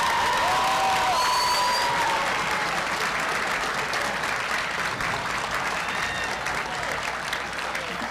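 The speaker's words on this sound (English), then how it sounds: "Students, can we give her a round of applause?" Students at English High School give a sustained round of applause for Principal Murphy at a bill signing, a full, even clatter of clapping with light cheers and murmured voices underneath, fading gently toward the end.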